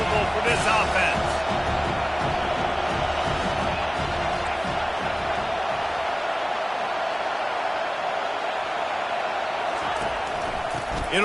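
Stadium crowd in a football video game roaring steadily as the offense lines up, a dense continuous wall of noise that stays loud throughout, with a play-by-play voice talking over it.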